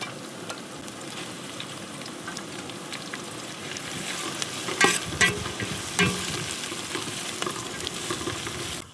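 Onions, green chillies and curry leaves fry in a pan for a mutton head fry, a close, continuous sizzle with scraping stir strokes that grows louder and busier partway through.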